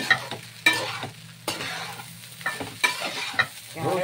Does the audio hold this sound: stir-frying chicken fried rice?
yes